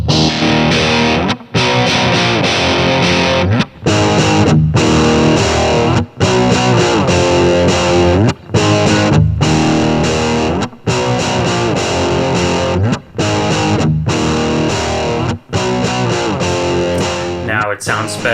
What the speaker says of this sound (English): Lowering that filter definitely helps a lot with the more aggressive distortion.